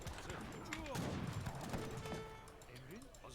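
Musket volleys and artillery in a battle in Age of Empires III: Definitive Edition, a crackling fusillade with booms mixed under game sounds and a voice talking.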